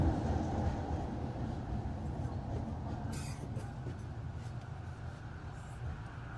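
A Metro Vancouver SkyTrain runs along its elevated tracks, with a steady, muffled interior rumble and wheel noise heard from inside the car, moderately loud and continuous, and a brief hiss partway through.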